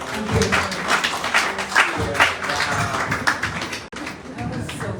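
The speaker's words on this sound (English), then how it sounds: "Another round of applause, please." An audience claps steadily throughout at a Traditional Dominican Cuisine cookbook launch, a dense, close round of applause with a brief dip near the end.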